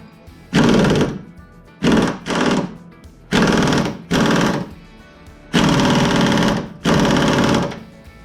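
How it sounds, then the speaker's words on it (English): A pneumatic impact wrench tightens a bolt on a car's suspension, run at a high setting on low air pressure, sounding as loud, close rattling bursts in uneven pairs and single longer runs with short pauses between, no talk. "I have the impact turned up, but the air pressure is low, so it doesn't tighten too much."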